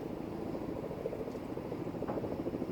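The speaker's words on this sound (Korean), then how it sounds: "헬리콥터가 많이 출동하고 있습니다" A firefighting helicopter flying over Andong during a wildfire-suppression drill, its steady rotor rumble heard from a distance for the whole stretch without a break.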